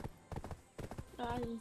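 Horse hooves clip-clop in Black Desert, a few quick rhythmic bursts of hoofbeats from a mount in the game world, fairly faint, followed by a brief tonal game sound.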